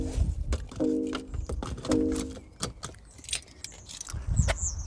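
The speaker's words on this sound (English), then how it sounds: "I need to fasten the seatbelt with me not in it." Metallic clicks and rattles of a seatbelt buckle being pulled and latched inside a BMW i3 electric car, a few close, sharp clacks with light jangling and no motor noise.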